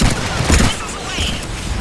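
Missile launches in the video game Mass Effect 3 make a dense, continuous barrage of booming gunfire-like blasts that rumble loudly across the whole moment, with a voice partly buried in the mix.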